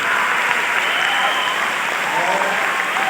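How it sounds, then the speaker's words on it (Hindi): An audience at a welcome program at Science City, Kolkata, claps loudly and steadily, a dense continuous wash of hands with faint voices underneath. "तो दादा के लिए और मैडम के लिए एक बार जोरदार ताली होनी चाहिए।"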